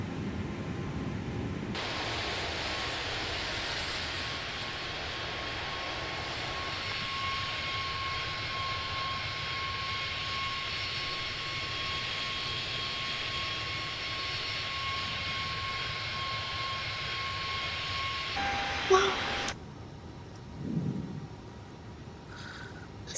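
Simulated engine roar of an A320neo airliner climbing in a flight simulator game: a steady, even drone with a faint constant whine that lasts about seventeen seconds, then cuts off abruptly, leaving a few soft thumps.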